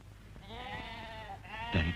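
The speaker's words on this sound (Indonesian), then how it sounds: "dari tadi kambing kita ngebek terus" A goat bleats twice in close succession, a loud wavering cry followed by a shorter call, with some background noise and a rustle at the end.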